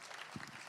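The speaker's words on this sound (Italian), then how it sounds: "Facciamo un applauso." Audience applause at a youth sports award ceremony comes through as a brief, dense spatter of clapping with a few lower voices mixed in.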